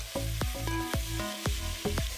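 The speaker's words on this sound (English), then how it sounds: "We start with the onions, since I want the onions to caramelize a bit." Onions sizzle steadily with salt in a pan, a dense continuous frying hiss broken by regular scraping strokes of a utensil stirring, close and fairly quiet, with no talk.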